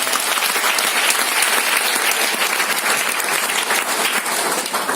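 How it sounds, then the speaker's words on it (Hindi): A large audience at a company team gathering gives new members a loud, steady round of applause, dense and continuous from start to finish with no talking over it. "आप सभी नए लोगों का माइग्रेशन फैमिली में, माइग्रेशन मैनेजमेंट और हम सभी टीम लीडर की तरफ से जोरदार तालियों के साथ वेलकम करें।"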